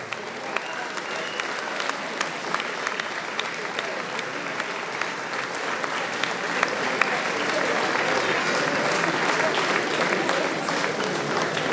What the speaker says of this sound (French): Vous pouvez applaudir bien fort Yann.